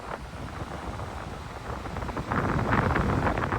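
Heavy wind from Cyclone Alfred at Coolangatta on the coast, a continuous loud roar buffeting the microphone and swelling stronger toward the end, with no voices.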